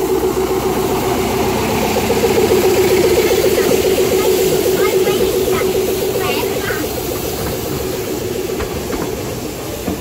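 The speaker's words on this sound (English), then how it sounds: "We're racing the little diesel." A small diesel locomotive on a miniature railway runs nearby with a steady, loud chugging engine throb, while people talk over it.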